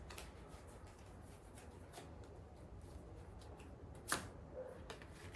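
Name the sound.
tarot cards being shuffled and drawn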